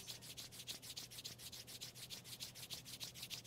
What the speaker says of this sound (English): Rub your palms together, generate some friction, some heat.